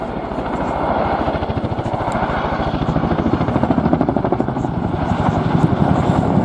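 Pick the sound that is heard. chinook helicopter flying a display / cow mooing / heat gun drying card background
chinook helicopter flying a display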